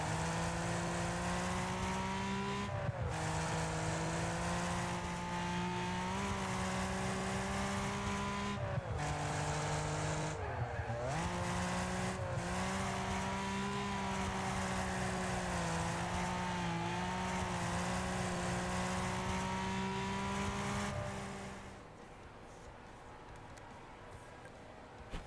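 Race cars in the Wreckfest video game roar with a steady, loud engine drone, the pitch dipping briefly at each gear shift, before the engine noise cuts away near the end and leaves a quiet bed.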